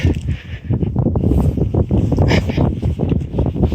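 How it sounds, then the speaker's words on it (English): Strong wind buffets the microphone on an exposed hilltop ridge, a loud, continuous roar with gusty rumbling bursts and no pauses. "Guys, it's quite blowy up here."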